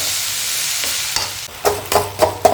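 A metal spatula chops and stirs egg parotta with kurma on a hot griddle, giving a steady sizzle with several sharp scraping clanks toward the end.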